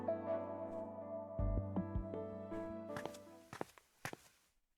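Footsteps in a video game, several distinct steps landing on a hard floor and fading as they move off, heard over a sustained musical backdrop with a slight echo.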